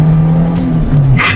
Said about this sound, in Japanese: 坂道をね、ちょっと加速してみたいと思います。